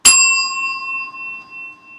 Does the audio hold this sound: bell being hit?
yes